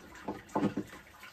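Water draining out of Grainfather home-brewing equipment after a Black IPA brew, a few short, close gurgling splashes coming in irregular bursts.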